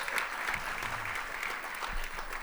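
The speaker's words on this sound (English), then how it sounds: "So applaud him before we start the film." An audience at a film screening applauds the projectionist, a steady wash of clapping from many hands that holds an even level throughout.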